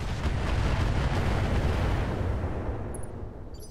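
Heavy weapons fire from mechs in Roguetech, a BattleTech game, forms a dense, continuous rumbling barrage of blasts and booms that fades slightly toward the end, with a few faint electronic beeps near the close.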